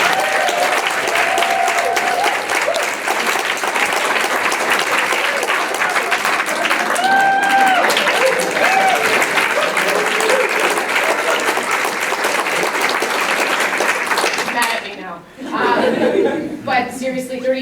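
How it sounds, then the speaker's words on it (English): Applause from a keynote audience at a 30th anniversary event for the KWIC organization, sustained and dense, with scattered chuckles and crowd murmur before the clapping fades near the end. "we should give a round of applause to Julie because she works so hard"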